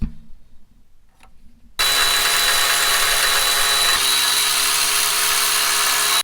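After a quiet start, a power tool whines loudly and steadily, close by, as it removes the fan bracket bolts on a 2002-2005 Toyota 4Runner, with a brief shift in pitch midway.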